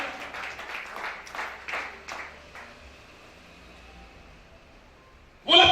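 A church congregation breaks into a few seconds of clapping, bursts rising and fading before a quieter stretch, then a sudden loud burst at the very end.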